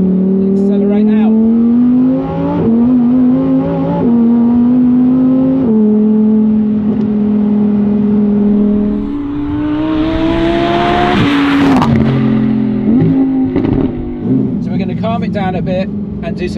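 A Lamborghini Huracan Tecnica accelerates out of a corner, its engine note climbing through gears in loud rising sweeps with shifts and a brief tire squeal, heard close inside the car.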